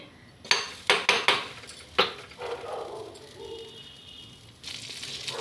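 A metal kadai pan set down in a home kitchen with several sharp clanks and knocks, followed by a soft sizzle as homemade butter goes in and melts.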